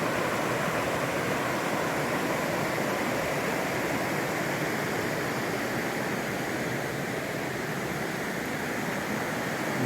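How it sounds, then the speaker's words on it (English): River rapids rush steadily along Katahdin Stream or the Penobscot River in Baxter State Park, a loud, constant roar of churning water close by with no pauses. "These are rapids,"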